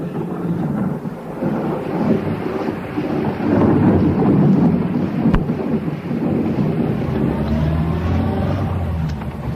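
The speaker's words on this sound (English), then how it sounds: "Then the storm began quite suddenly, and everything was thunder." A sudden thunderstorm with heavy rain near a coastal road makes a loud, continuous roar of rumbling thunder, driving rain and wind that swells and holds steady, with no voices over it.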